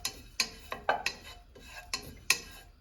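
Okra cooked desi style with a drop of oil is stirred in a pan, giving about seven crisp, evenly spaced scrapes and clinks of a spoon against the metal, close and moderately loud, with no voices.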